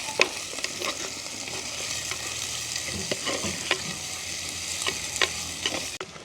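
Onion and green chili sautéing in a pan, a continuous crackling sizzle with occasional scrapes and taps of a stirring spoon, moderately loud with no voices.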